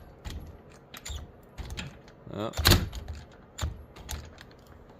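A cordless Alloyman electric ratchet set to 45 foot-pounds whirs and clatters in short bursts while spinning off a nylon nut, with a loud central burst and intermittent mechanical clicks; a voice briefly speaks.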